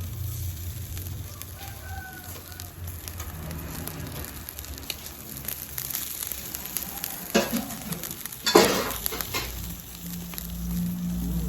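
Fish cooks in a pan with a steady, low sizzle throughout, while a rooster crows somewhere in the background and a few louder crackles pop near the end.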